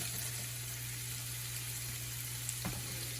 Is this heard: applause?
no